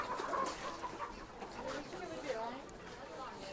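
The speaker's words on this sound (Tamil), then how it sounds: "கோழி பண்ணை" Chickens clucking and chattering at a chicken farm in Kharkiv, Ukraine, a steady mass of bird calls at moderate distance.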